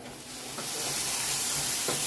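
Steady hissing and gentle sizzling rise from potatoes cooking in a covered pan, a close, continuous wash of steam noise that swells slightly over about two seconds, with no talking.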